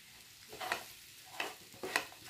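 Onions and tomatoes sizzle in a pan with a pinch of salt while being stirred, a low steady frying hiss broken by three brief scraping strokes of a spoon, close and moderately quiet with no talking.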